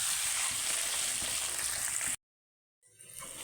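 Spices frying in a pan for egg curry, a continuous close sizzle that cuts off abruptly into silence, then returns more faintly.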